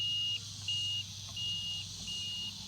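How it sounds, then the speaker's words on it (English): Four short electronic beeps from a continuity tester checking a Chrysler TC by Maserati third brake light, at a steady pace, each a clean high tone lasting about a third of a second, over a quiet hum. "You can hear the beep."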